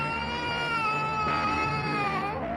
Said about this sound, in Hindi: फिर उसे पीछे से स्टुअर्ट की रोने की आवाज आई